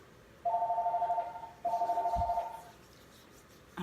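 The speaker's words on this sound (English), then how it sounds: "phone's ringing" A telephone rings indoors in two warbling bursts, each about a second long with a short pause between, moderately loud against a quiet room.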